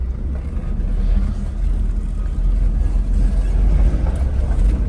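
A car drives with its four-wheel drive engaged, a steady loud low rumble of engine and road noise throughout, without voices.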